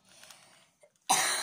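A single person coughing: a soft, breathy series of little throat sounds, a pause, then one sharp, loud close cough at the end.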